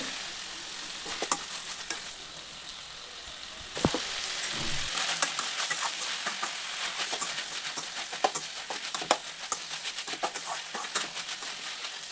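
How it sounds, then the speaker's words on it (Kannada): Bitter gourd, onion and tomato fry in oil in a pan with a steady soft sizzle and crackle, interrupted by occasional stirring scrapes and clinks, close but fairly quiet. "ಈ ಥರ ಹಾಕ್ಕೊಂಡು ಚೆನ್ನಾಗಿ ಆಯಿಲಲ್ಲೇ ಚೆನ್ನಾಗಿ ಫ್ರೈ ಮಾಡ್ಕೊಬೇಕು ಹಾಗಲಕಾಯಿನ"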